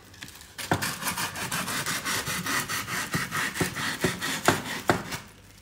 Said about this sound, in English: And what I do is I sand.